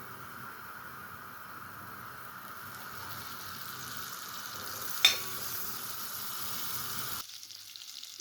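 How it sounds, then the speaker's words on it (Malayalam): Butter sizzling in a hot pan on a gas stove: a steady soft frying hiss for about seven seconds with one sharp clink midway, then cutting off to near silence. "പാത്രം ചൂടായി കുറച്ച് ബട്ടർ ഇട്ട് കൊടുക്കാം."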